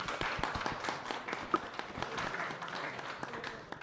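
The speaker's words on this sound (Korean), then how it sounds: "그래서 환영의 박수로 우리 박수 한번 크게 치고 환영의 인사로 시작을 하도록 하겠습니다." An audience at a Korea-Japan steak cook-off eve ceremony gives a welcoming round of applause, a steady patter of many hands clapping, quite faint and distant.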